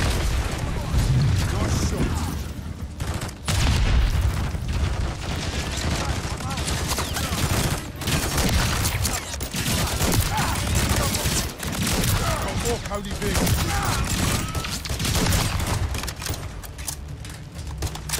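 A video game firefight with heavy, continuous gunfire and bursts of shooting filling the whole stretch, while voices talk loudly over it.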